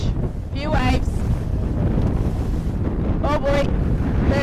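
Steady wind roars over racing sailboats at the Pallas Capital Gold Cup 2024 regatta, a constant buffeting rush on open water with a faint voice-like whine rising twice over it.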